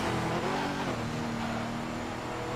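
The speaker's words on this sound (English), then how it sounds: "Time to use the nitrous." A car in the Midnight Club 3: DUB Edition Remix racing game roars under a nitrous boost, a loud, continuous engine drone holding a steady high pitch with no break.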